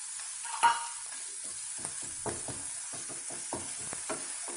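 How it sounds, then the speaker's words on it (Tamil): Onions with ginger garlic paste sauté in a pan, a constant bright sizzle with brisk, regular spatula scrapes and stirs, close and steady with no talk. "இப்போ வெங்காயம் வதங்கிட்டு இருக்கும்போது நம்ம இந்த இஞ்சி பூண்டு பேஸ்ட் அதையும் சேர்த்து"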